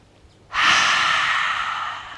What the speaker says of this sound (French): Et on va expirer en ouvrant la bouche.